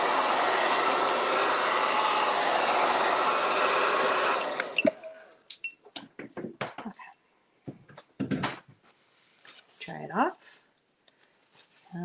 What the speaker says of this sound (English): So it is hairdryer time.